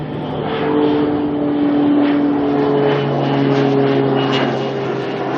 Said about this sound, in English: Skyline Aviation here, Skyline 8 coming through from a Whangarei.